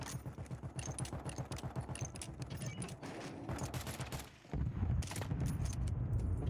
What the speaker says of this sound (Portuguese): Tu tomou todos os tiros.